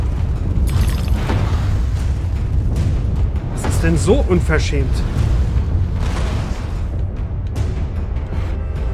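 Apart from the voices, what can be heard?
cannons firing in video game Alice: Madness Returns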